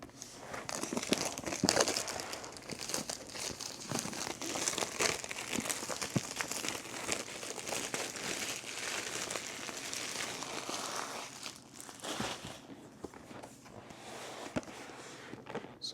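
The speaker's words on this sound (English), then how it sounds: "Let's go ahead and take this plastic off." Plastic wrap peeled and crinkled off the packaging of a DJI Avata 360 drone, continuous close crackling and rustling with sharp tearing bursts throughout.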